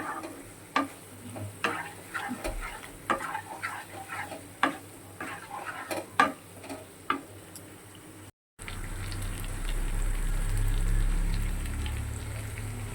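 Pointed gourd curry being sautéed in a pan before milk goes in, with repeated scraping and stirring clicks over a low sizzle, then a steady, louder frying hiss after a brief break.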